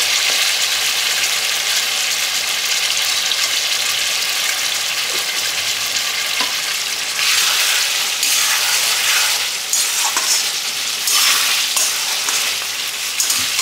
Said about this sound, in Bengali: মাছটা একটু হতে থাক, কষানো হয়ে আসছে।